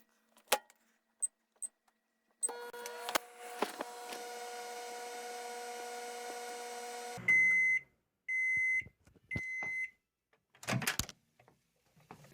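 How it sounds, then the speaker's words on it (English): A microwave oven heats a piece of canned cheeseburger with a steady droning hum, then gives three separate beeps, with door clunks and clicks before and after. "cut a piece of this off and go throw it into the microwave"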